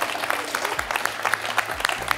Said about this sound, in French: On peut applaudir Olivier.